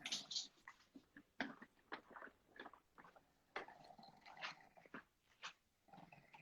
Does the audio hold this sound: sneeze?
no